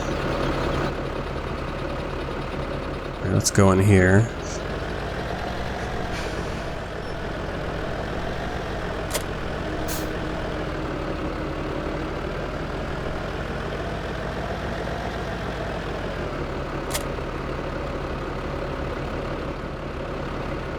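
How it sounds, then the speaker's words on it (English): Tractor pulling a manure barrel in the Farming Simulator 17 game, its engine a steady low idling drone that runs unbroken throughout, with a brief spoken remark early on and a few short clicks scattered over the hum. "Head over to your tractor. Okay. Attach the weight and the manure barrel, then turn it on and spray your field."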